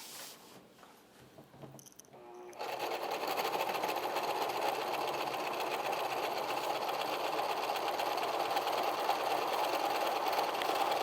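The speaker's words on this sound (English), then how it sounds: "I'm going to start sewing." After a few seconds of soft handling noises, a home sewing machine starts stitching the side of a fabric apron and keeps up a continuous, even mechanical hum with a fast needle rhythm.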